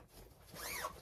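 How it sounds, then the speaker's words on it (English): A zipper on a large fabric clothes storage bag is pulled in one quick continuous zip, close and clear. "I love the zipper here."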